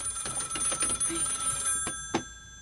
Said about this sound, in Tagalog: Ada umawawag iti telepono.